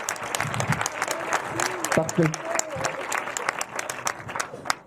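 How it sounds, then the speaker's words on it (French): Audience applause fills a conference hall, steady dense clapping throughout with a voice speaking briefly over it. "Applaudissez-les bien fort"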